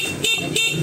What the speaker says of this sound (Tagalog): Stock horn muna tayo.